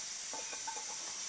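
Semolina roasting in ghee in a pan, a soft continuous sizzle and hiss with a few faint scraping stirs, close and quiet throughout.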